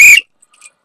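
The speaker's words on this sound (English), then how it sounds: "got the unofficial, official whistle, N1 QOV whistle" A whistle gives a single short, loud, shrill blast at close range, cut off sharply and followed by near silence.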